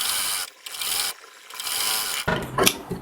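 A sewing machine stitches a princess-cut lehenga blouse in short mechanical bursts, a raspy whirring separated by brief pauses, with a sharper clattering burst near the end.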